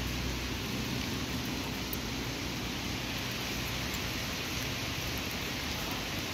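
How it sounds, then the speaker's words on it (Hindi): Heavy rain falls steadily as an even, dense hiss, continuous and fairly soft, with no voices. "भयंकर बारिश हो रही है"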